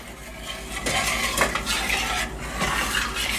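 A spoon stirs chocolate pudding heating in a pot, producing repeated scraping and clinking strokes against the metal, close up and with no speech.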